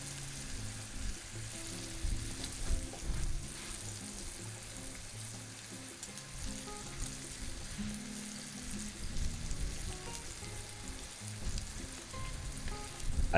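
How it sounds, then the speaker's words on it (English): Bacon-wrapped filet mignon sizzles and sears on a grill at about 350 to 400 degrees, a continuous crackling hiss with popping spits, steady and close throughout. "I'll give you one more close up here of this nice filet sizzling and searing away"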